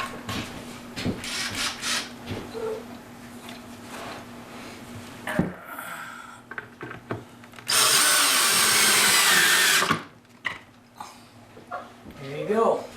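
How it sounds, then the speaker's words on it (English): A power drill drives Kreg pocket screws into a shop cabinet face frame, a loud sustained whir near the end preceded by clicks and handling noises, with someone talking. "Let's see if we can get a couple screws in here."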